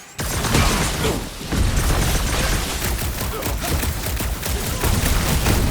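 Dense, continuous gunfire and blasts from combat in Marvel's Guardians of the Galaxy game, loud and chaotic with overlapping shots and impacts throughout, and no talking.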